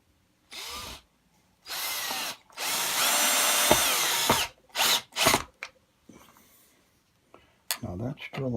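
Several bursts of a power drill whirring and biting through a wooden shim, one long sustained run in the middle, with short pauses and a little quiet talk between.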